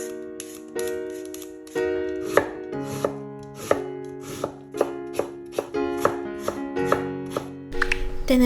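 Carrot, young garlic and daikon radish chopped for kimchi, a close series of crisp knife strikes on a board, some quick and clustered, others spaced out, with no talk over them.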